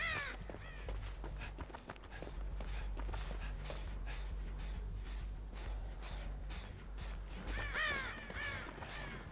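Crows in a horror video game caw again and again, harsh repeated calls over a steady low game drone, with footstep-like thuds and a louder burst of caws near the end.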